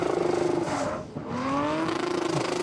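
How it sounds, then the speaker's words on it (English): Rally car engine on track, driven by Ervins Zuks, screaming at high revs with a steady buzzing limiter stutter, a brief dip midway before climbing again, loud and close. "The car makes an amazing noise, banging the rev limiter."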